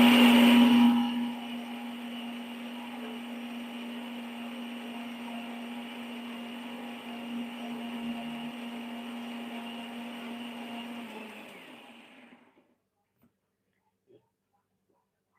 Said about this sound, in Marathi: इथे आपण मिक्सर लावून घेतो.